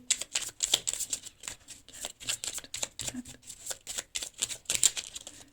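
Tarot cards being shuffled and drawn by hand, a close run of quick papery riffles and slaps in irregular bursts with short pauses between, heard alone.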